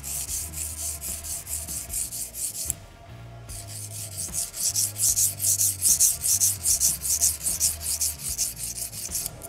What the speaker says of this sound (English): So I try to use the whole stone.